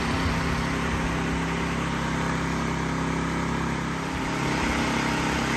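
A Predator 1400 portable generator idles while powering two fans, giving a constant loud engine drone with a steady hum and a slight dip near the end.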